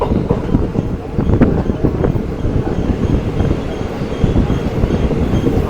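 Passenger train travelling near Muthalamada station, a loud continuous rumble and rattle of wheels on the rails, with faint voices underneath.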